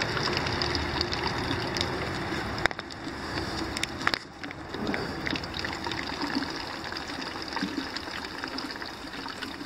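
Water from a squeeze filter pours out in a steady trickle while hiking on Pennsylvania's Mid State Trail. It runs close and continuous, with a couple of brief knocks.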